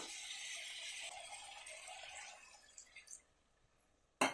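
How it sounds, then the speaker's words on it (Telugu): A glass of water poured into a cooking pot of chicken pulav and gongura curry, a rushing splash that fades into faint drips and small clinks, ending with a sharp knock. "ఇప్పుడు ఒక గ్లాస్ నీళ్ళు వేసుకుందాము"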